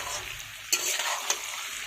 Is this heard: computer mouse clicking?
no